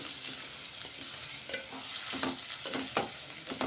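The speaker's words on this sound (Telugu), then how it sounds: "ఉల్లిగడ్డలు ఎర్రగా కానివ్వాలండి ఇవి ఎర్రగైతేనే మనకు బాగుంటుంది టేస్ట్" Onions sizzle steadily, browning in a thick steel pot, while a utensil scrapes and stirs now and then; no voices.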